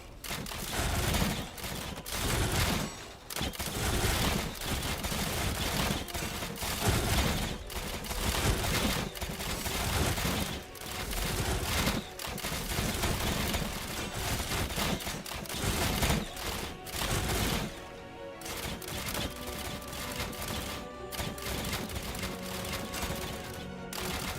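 In the video game Slormancer, hundreds of turrets fire at once, a dense, rapid barrage of overlapping gunshot-like pops and clatters that runs continuously with brief dips, loud and busy throughout.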